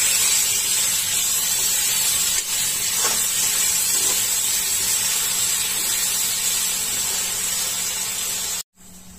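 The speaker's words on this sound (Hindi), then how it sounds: "अब इसमें ये टमाटर के पीसेस डालेंगे और टमाटर हल्के गल जाने तक इनको भूजेंगे" Tomato pieces frying in a pan for a methi paneer masala, giving a steady, close hiss and sizzle that runs without a break and cuts out abruptly near the end.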